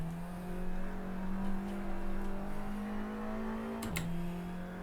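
An Audi TT Cup race car's engine holds a steady droning tone through a slide in Assetto Corsa, then briefly dips in pitch near the end, with faint tire scrub and no talking.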